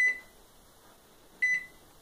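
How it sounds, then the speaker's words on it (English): A faulty microwave oven being set up for diagnosis gives two short, high electronic keypad beeps, one at the start and one near the end, with quiet room tone between them and no talk. "you need to put the microwave working because you need the fan operating"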